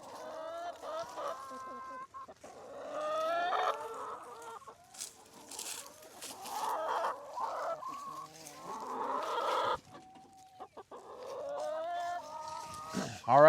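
A flock of brown sex-linked laying hens clucks and murmurs continuously at close range, with overlapping calls and occasional louder squawks.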